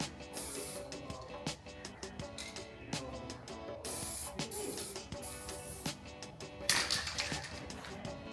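Paint sprayed in light coats onto a car part for a Nissan 350Z build, heard as short bursts of close hissing separated by pauses.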